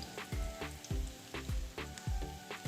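Fresh ginger and garlic fry in about half a cup of hot oil in a pan, sizzling steadily up close with soft, regular stirring thumps and no talking.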